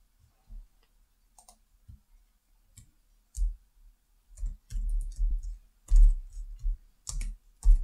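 Keys click on a computer keyboard as metrics are typed in Power BI. Light, close clicks come in scattered single taps at first, then in quicker bursts.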